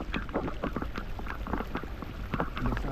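Rain falls on a boat at sea during a fishing trip, a close, steady patter of drops hitting surfaces with splashy irregular taps and no talk.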